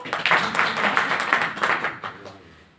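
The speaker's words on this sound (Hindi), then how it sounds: "ताली बजाओ" A gathering at a Brahma Kumaris New Year 2022 programme breaks into clapping, a dense burst of many hands that holds steady, then tapers and fades toward the end.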